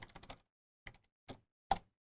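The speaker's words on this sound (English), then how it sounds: "I'll type system.out.print welcome to Java," Java code typed on a computer keyboard: a quick burst of four key taps, then three separate, slower keystrokes, crisp, close and quiet against silence.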